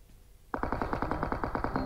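Rapid automatic gunfire in PUBG Mobile starts abruptly after a quiet moment and continues as a steady, evenly spaced burst of close, loud shots.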